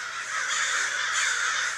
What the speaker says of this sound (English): There's so many crows.